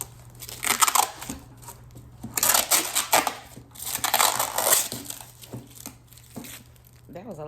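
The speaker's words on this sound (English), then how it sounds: "I'm going to take this film off the top." Protective plastic film is peeled and crinkled off the lid of an ultrasonic cleaner for nail tools, making loud bursts of crackling and tearing across several seconds, close up, with brief pauses between pulls.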